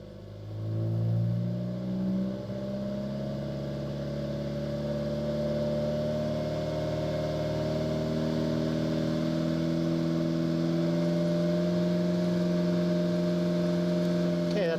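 An Alfa Romeo engine is revved and then held at about 2500 RPM. A short initial blip settles into a steady, rising engine hum that stays moderately loud and close.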